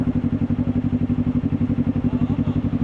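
A motorcycle runs on a functional test ride with its engine putting out a steady, rhythmic mid-pitched chugging throughout, close up, with no talk.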